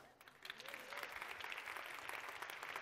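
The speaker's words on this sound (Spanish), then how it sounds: "Un aplauso para Amaya" Audience applause for Amaya at a university library anniversary science festival, faint clapping building gradually and filling the room, with a brief voice at the start.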